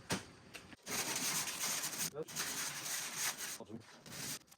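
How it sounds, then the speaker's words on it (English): Fiberglass body filler on a Vendo 39 Coke machine is scrubbed with 80-grit sandpaper in quick back-and-forth rasping strokes, close and moderately loud, with short pauses between passes. "You got a little 80 grit sandpaper. We're going to scrub that a little bit."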